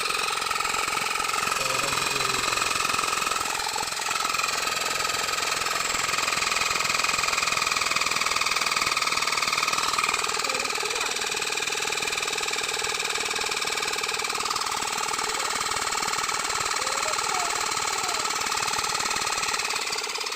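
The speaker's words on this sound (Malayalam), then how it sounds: "ഇങ്ങനെ എയർ അടിക്കണ നമുക്ക് ചെക്ക് ചെയ്ത് നോക്കാം. വർക്കിങ്ങാണ്." A steady mechanical motor hum drones continuously, an electric air pump running at an even level throughout with no pauses.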